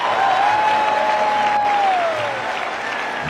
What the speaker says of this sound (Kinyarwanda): ahabwa amashyi menshi